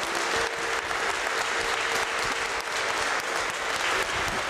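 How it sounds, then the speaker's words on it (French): A crowd in Thaon-les-Vosges applauds an election result on the town's new name, loud continuous clapping from many hands filling the room without pause. "je pense qu'on peut effectivement applaudir"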